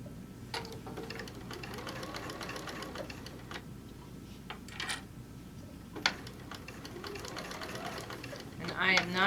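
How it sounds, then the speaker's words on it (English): Sewing machine stitching a fabric bag at an unhurried pace, a continuous mechanical whir with scattered clicks and ticks, ending with a brief voice. "And I am not sewing quickly, I am taking my time here."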